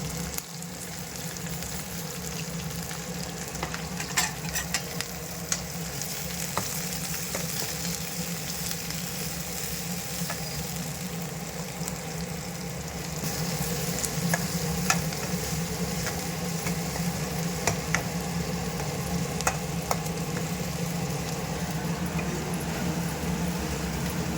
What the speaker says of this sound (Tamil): ஸோ நல்லா ஒரு ப்ரௌனிஷ் ஆகிற வரைக்கும் நம்ம நல்லா ஃப்ரை பண்ணி எடுத்துக்கலாம்